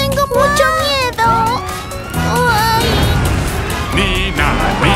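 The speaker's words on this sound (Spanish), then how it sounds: "¡El camión de bomberos está aquí!" A fire truck siren in a children's cartoon wails in rising and falling sweeps, loud and continuous, mixed with bright cartoon music and excited child-like voices.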